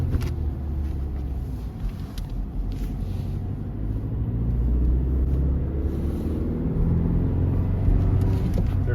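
A 2024 Toyota Tacoma SR pickup with a manual transmission pulls away from first gear on a cold day, a steady low engine rumble building gradually in loudness, with no talking.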